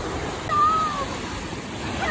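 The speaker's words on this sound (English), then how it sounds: "this is the beach with waves" Yellow-flag ocean waves wash steadily onto the beach as a constant broad rush, with a thin, brief tone rising over the surf for a moment.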